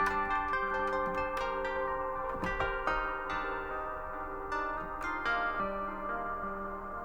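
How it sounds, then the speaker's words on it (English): Synth jam from an MPC One, modular rig and Novation Summit, fed through a Mimeophone delay and reverb, a soft, spacious melodic line with plucky notes smearing into echoing tails, quiet and steady, no voices. "this is like a verb and delay. In fact, here's without the Mimeophone. And then with Mimeophone."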